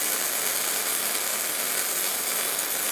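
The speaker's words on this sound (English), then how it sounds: "Then he's going to skip over and do another little stitch weld closer to the edge." A steady, dense crackling hiss of welding on a steel bumper, running continuously and loud at close range, with no voices.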